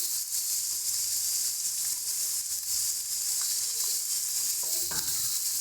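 Turnip being stirred in a frying pan with turmeric and salt, a steady bright sizzle running throughout with a few soft scraping knocks near the end.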